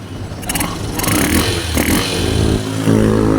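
Yamaha YTX motorcycle engine idling and revving steadily after its carburetor was cleaned, a loud continuous running drone with light mechanical clatter and scraping nearby.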